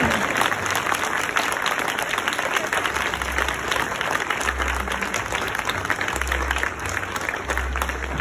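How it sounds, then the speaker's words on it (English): Sustained audience clapping at a lifetime achievement award ceremony for a former transit CEO, a steady dense wash of many hands throughout, with a low rumble of room noise underneath. "Now we can clap."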